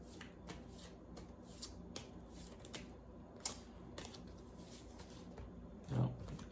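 Tarot cards being shuffled by hand, soft repeated riffling and flicking in a quiet room with a brief thump near the end, faint and close, no talking.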